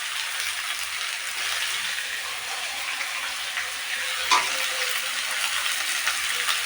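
Potatoes fry and are stirred in a pan of hot oil, a steady close sizzle with a brief scrape or clatter near the middle and no voices.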